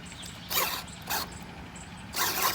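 Retractable landing-gear door mechanism on a Freewing 90mm T-45 Goshawk RC jet, three short bursts of whirring, creaking servo movement, close up against a quiet background hiss with no talk.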